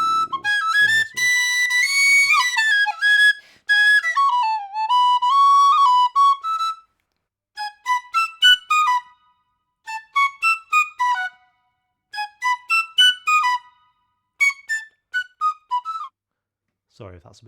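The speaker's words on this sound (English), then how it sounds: "So that's live tin whistle" A live tin whistle plays a bright, shrill melody up close, first in long sustained phrases with bends, then in quick clipped bursts of notes separated by short silences, with no other sound behind it.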